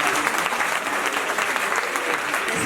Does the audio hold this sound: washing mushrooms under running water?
no